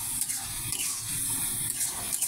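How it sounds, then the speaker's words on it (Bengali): Vegetables hit a pan of cooked spice paste and oil, giving a continuous close hissing sizzle with faint scraping, no voices. "আমি এখন সবজিটা দিয়ে দিচ্ছি। সবজিটা দিয়ে ভালো করে কষিয়ে নেব।"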